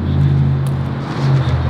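A Ford GT350R race car engine drones loudly and steadily at close range, its strong, even rumble running throughout without any talk.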